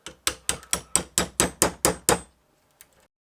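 Ten sharp hammer blows ring out on a metal alternator part from a Lotus Elan M100 at a steady rhythm, close and loud, followed by a pause and one faint tap.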